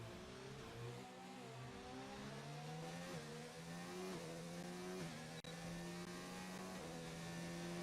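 A McLaren Formula 1 car racing in F1 2019 at the Abu Dhabi Grand Prix: a high engine whine climbing steadily in pitch through the gears, with brief drops at each upshift and one sharp click near the end, continuous and fairly faint.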